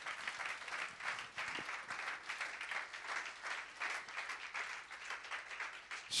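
A church congregation applauds continuously, a dense steady patter of many hands clapping at a distance, fairly faint and without pause, with no speech over it.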